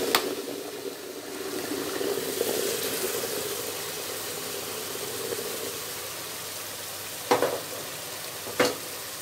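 Steady frying sizzle of tomato sauce for koshari in a pan after a little water is added, with a low bubbling hiss and two brief clinks of a utensil near the end.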